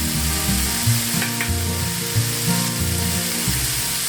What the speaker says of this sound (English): And fry the liver for about 1 minute on one side.